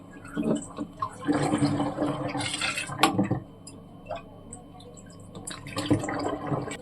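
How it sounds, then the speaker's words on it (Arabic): Liquid pours into a plastic jerrycan in gurgling, sloshing bursts, with knocks and handling noises of the container, heard close. "خلصت انا والجيركن مليته وعلى الاخر"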